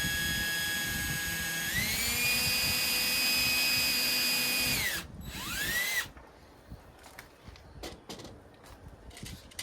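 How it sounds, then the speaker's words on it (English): A power drill pre-drilling into wood whines steadily, rises in pitch, then stops, followed by quieter clicks and handling noises. "I'm gonna need to pre-drill this anyway."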